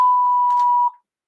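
Toy dinosaur emits a single sustained electronic beep, loud and close, holding a steady tone for about a second before cutting off, with a faint click partway through.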